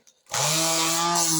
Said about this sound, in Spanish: con la máquina lijadora, pues voy lijando todas las otras partes